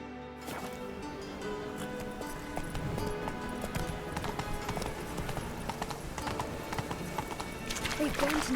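A horse's hooves clip-clop steadily through gameplay of The Witcher 3: Wild Hunt, a close, continuous rhythmic trotting under voices talking and game sound.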